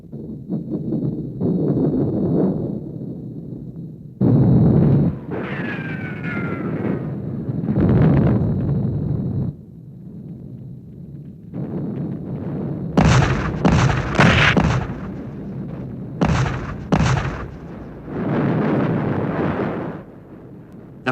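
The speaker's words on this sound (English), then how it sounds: "The artillery was now shelling the very heart of Berlin." Artillery shelling the heart of Berlin in the Second World War: deep rumbling blasts and dull booms come in rolling bursts over a windy, noisy background, with sharper, louder reports clustered in the later part.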